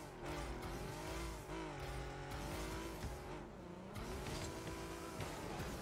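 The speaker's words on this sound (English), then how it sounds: "Engine sounds pretty rad, honestly." A Cyclone car engine in a racing video game roars steadily, its pitch rising and falling as the car accelerates and shifts, with tire noise and loud, continuous motor sound throughout.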